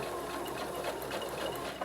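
A sewing machine stitching a zippered pouch for a pencil case runs in a steady, fast, continuous whir at close range, with no pauses.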